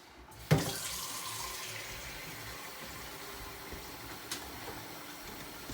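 A kitchen tap runs water into a large soup pot holding celery, carrots and onions for hamburger soup. A clunk starts the flow, then a steady, close hiss of running water continues with no talk.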